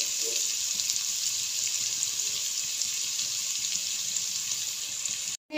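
Chopped small onion frying in a pan while tomato chutney is made, a steady bright hiss of sizzling oil running throughout with a brief dropout near the end.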